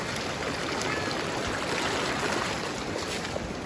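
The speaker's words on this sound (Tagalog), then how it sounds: "Malaki yung tubig. Rumaragas." Floodwater rushing hard during a typhoon, a steady loud roar of churning water that fills the whole clip without a break.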